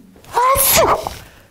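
A single sneeze, a sharp breathy intake rising into a loud explosive burst, close and clear.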